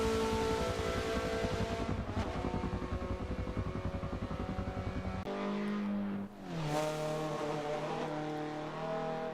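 Engine of a Mazda two-seater driving around the Suzuka circuit in Japan, a loud sustained harmonic drone with steady revs, then a sharp gear change and rising pitch as it accelerates, heard alone without talk.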